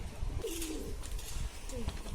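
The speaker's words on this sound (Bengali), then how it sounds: "আর এখানে আমাদের কবুতরগুলো ছাড়া আছে, খাওয়া দাওয়া করছে" Pigeons and doves let loose and feeding outdoors, giving two soft, low coos a moment apart over steady rustling background noise.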